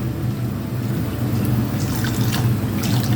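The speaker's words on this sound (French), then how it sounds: "Je rajoute de l'eau." Water poured into a cooking pot of tomato-paste sauce in a home kitchen, a steady close trickle and splash running without a break, no talking.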